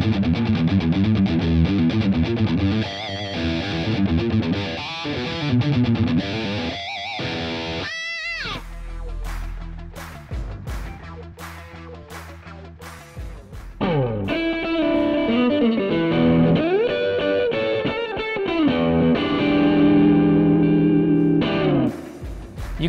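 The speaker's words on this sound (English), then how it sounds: "I'm gonna pick one of my favorite high gain sounds and load it right in." High-gain distorted electric guitar played through a Spark amp, with dense chugging riffs, sharp stabbed chords and pauses, then sustained saturated chords ringing out near and loud.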